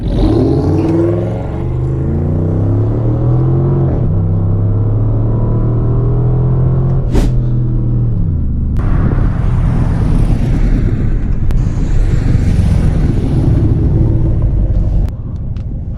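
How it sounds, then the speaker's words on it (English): A Dodge Charger RT with all-wheel drive accelerating hard in a 0-60 run, a loud deep engine roar climbing through rising gear sweeps with a shift pause, heard from inside the car, continuous and without talking. "I'm going to be doing some 0 to 60 tests and pulls"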